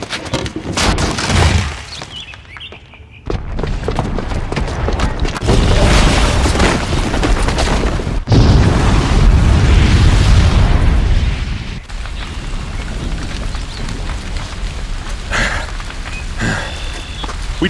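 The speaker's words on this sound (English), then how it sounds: "the booby trap on the bomb downstairs is gonna get set off" A bomb detonating in Horizon Zero Dawn, a loud booming blast followed by sustained rumbling debris and crackling bursts, with a second heavy surge midway before settling into lingering rumble and scattered pops.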